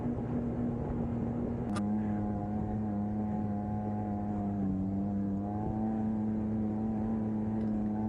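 A Yamaha snowmobile engine drones steadily while riding across wind-packed snow in the Alaskan mountains, a loud continuous hum with slight shifts in pitch as the throttle varies.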